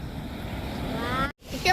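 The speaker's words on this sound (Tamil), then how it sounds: "இப்போ அலப்பை பீச் வந்தாச்சு." Sea waves at Alleppey beach wash in a steady, rushing roar with wind buffeting the microphone, and a voice is heard near the end.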